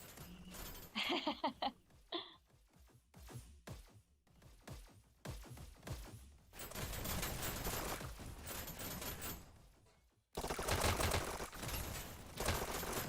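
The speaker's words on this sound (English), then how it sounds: "Dual SMGs. I'd like to see an SMG battle." Dual SMGs firing in the video game Dash League: dense, sustained bursts of rapid automatic gunfire, loud and continuous over several seconds with a brief gap, after a stretch of lighter clicks and clatter.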